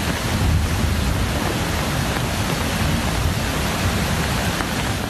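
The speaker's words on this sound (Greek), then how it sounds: "Ορμητικά νερά πνίγουν το κεντρικό πάρκινγκ της Μακρινίτσας." Rushing floodwater pours through the central parking lot of Makrinitsa in Magnesia, Greece, making a loud, steady broadband roar that continues unbroken throughout.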